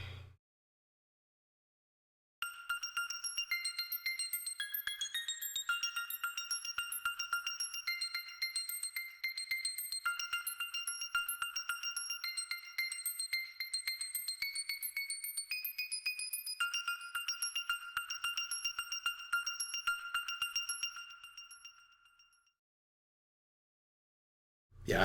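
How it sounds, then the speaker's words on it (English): Free HELM software synth playing an arpeggiated sixteenth-note pattern that bounces between octaves, bright and bell-like, steady and rhythmic for about twenty seconds, then fading out, with no voices. "And it's also already an arpeggiated sound, so it created a neat effect."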